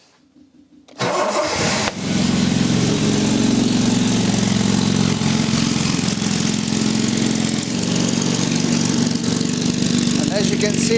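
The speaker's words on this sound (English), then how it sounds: "I need to start the engine and then we will adjust it" A 4.2 litre Jaguar XJ6 engine cranks and starts after about a second of quiet, then settles into a loud, steady idle close by with no talking, being tuned for mixture.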